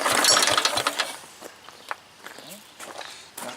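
A Manco engine being cold started with a pull rope gives a loud rough burst of cranking and sputter at the start, then fades to faint scattered clicks and knocks.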